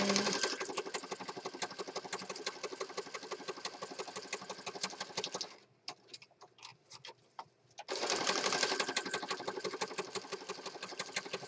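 A sewing machine stitching fabric, running in a fast steady rattling whir for several seconds, pausing briefly with a few clicks, then starting up again loud and close, no talk.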